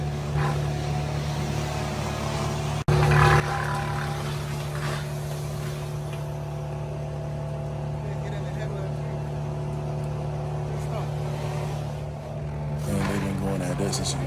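A wood chipper's engine runs steadily during residential tree removal, a loud, constant drone with a brief louder burst near the start, while a truck is loaded nearby.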